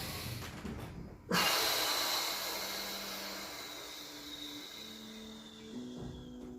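A person forcefully exhaling during an isometric core-strengthening exercise, one sharp loud breath out that starts abruptly and fades slowly, with a faint steady tone underneath.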